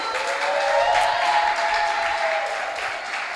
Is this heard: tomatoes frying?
no